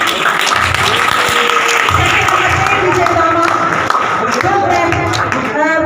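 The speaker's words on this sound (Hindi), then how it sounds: "ताली बजती रहनी चाहिए।" At a ceremony in a government senior secondary school, a crowd keeps up sustained applause honouring students' exam results, while an amplified voice talks over the clapping the whole way through.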